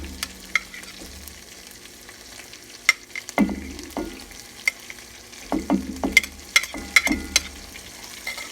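Onions going into a hot pot of tomato-basil pasta sauce, giving short bursts of sizzle and stirring clatter in a quiet kitchen, with sharper utensil taps now and then.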